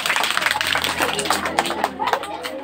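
Children clapping in a classroom: a quick, uneven patter of hand claps running for a few seconds, close and fairly loud, while a voice talks over it.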